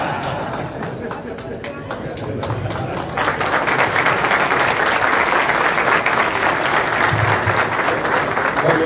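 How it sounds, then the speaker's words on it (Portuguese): Applause breaks out at a Jair Bolsonaro political rally in Brasília, a dense crowd clapping that swells and grows louder partway through and continues steadily, with some crowd chatter mixed in. "Eu pensei que fosse para mim as palmas."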